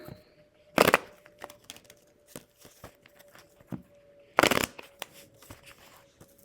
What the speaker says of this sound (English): lots of shuffling here.